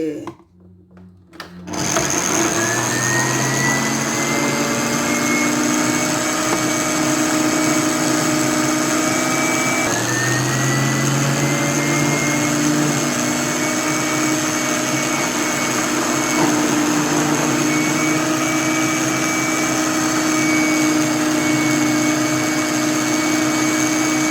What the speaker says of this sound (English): So this okra will go into the food processor